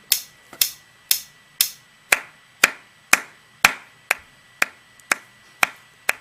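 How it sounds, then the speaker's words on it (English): Hands clap alone, about thirteen crisp, evenly spaced claps landing on the beat of a faint click track, close and dry. "I'm just going to clap my hands or something"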